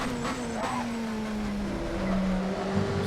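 Racing video game car locking its brakes, a sustained tire squeal with a falling engine note that runs steadily through about three seconds, moderately loud with no talk.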